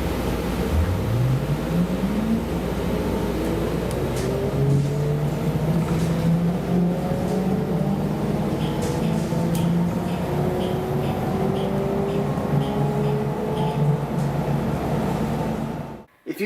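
A New Flyer battery electric bus propulsion system whines in rising and falling musical tones as the bus accelerates and cruises, heard up close over steady road and cabin rumble, cutting off abruptly at the end.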